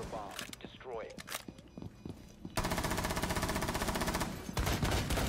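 Rapid automatic gunfire bursts loud and close in Rainbow Six Siege, with an earlier stretch of sparser shots and footsteps under a player's voice and callouts.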